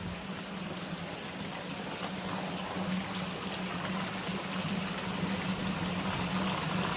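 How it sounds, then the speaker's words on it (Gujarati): Heavy monsoon rain falls in large drops, a dense, even roar of water that fills the space with constant hiss and patter and no break or talk. "અત્યારે વાગી ગયા 3 અને આવી ગયો છે વરસાદ"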